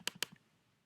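A few quick keystrokes on a computer keyboard: two crisp, close clicks and a softer third tap, then quiet.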